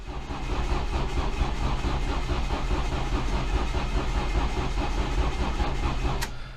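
A car engine cranks steadily for about six seconds as it tries to start, a continuous loud churning throughout with no talking, then it cuts off near the end.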